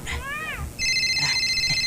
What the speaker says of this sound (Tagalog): Itay pa'y ngagriring to'y cellphone.